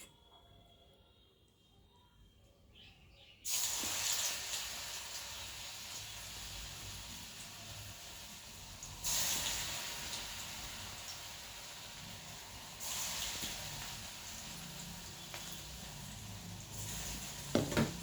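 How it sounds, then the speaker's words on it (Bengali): Vegetable hijibiji pakoras dropped into hot oil: after a quiet start, a loud, steady sizzle of frying takes over and surges again now and then as more pieces go in. "ছোট ছোট বড়ার আকারে আমি গড়ে এখন তেলের মধ্যে দিয়ে দেবো"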